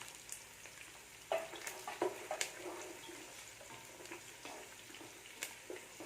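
Green chilies and cashew nuts frying in ghee over a medium flame, a soft steady sizzle broken by scattered crackles and the light clink of stirring, faint and close with no voices.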